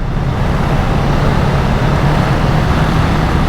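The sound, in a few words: Honda Rebel 500 motorcycle riding in second gear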